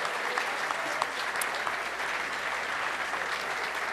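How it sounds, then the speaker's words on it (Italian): Sustained applause from a crowd at the 2014 end-of-season party at the Kursaal, steady dense clapping at moderate loudness with a few sharper individual claps standing out. "Mi fate un bel applauso per Emily, che è stata perfetta e brava."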